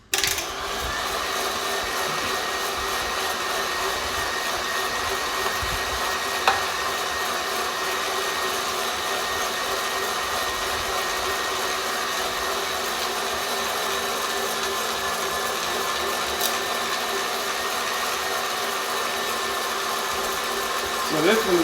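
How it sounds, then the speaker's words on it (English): An electric meat grinder runs steadily while grinding brisket, a loud, constant motor whine and grinding drone that holds for the whole stretch, with a faint knock or two. "I got 13 more pounds of brisket to grind again, so let's get it"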